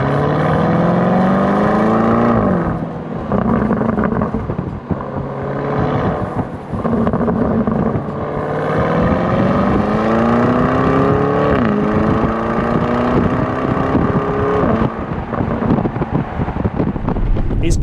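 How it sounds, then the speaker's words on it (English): A Lamborghini Urus exhaust revs repeatedly with pops and crackles, pitch climbing and dropping with each throttle blip, loud and close over wind noise. "hear that exhaust pop crackle, and just give it a little bit of juice"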